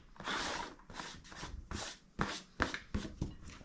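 Knife chopping onions finely on a cutting board for homemade meatloaf, a series of crisp, close blade strikes in irregular bursts, quiet and with no talking.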